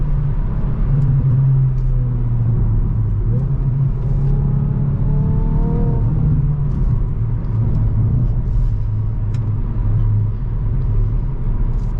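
A car accelerates hard in a rolling race between a Hyundai i20N and a BMW 530i, its engine rumbling loud and steady from inside the cabin as the revs climb and shift.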